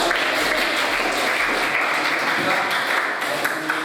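A classroom audience applauds with dense, sustained clapping that stays loud and even for a few seconds.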